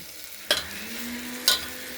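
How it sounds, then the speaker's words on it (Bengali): Moong dal tempering fries in a pressure cooker with a steady low sizzle, broken by two sharp clinks of stirring spaced about a second apart. "তো হালকার উপরেই ভেজে নেবো আমরা"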